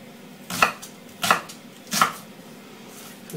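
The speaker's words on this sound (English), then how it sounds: "let's just cut the onion" An onion chopped with a knife on a board, three distinct sharp chops spaced evenly about two-thirds of a second apart, close and clear against a quiet background.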